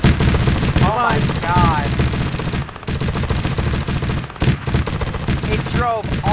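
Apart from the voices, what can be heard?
vehicle firing machine gun in video game Arma 3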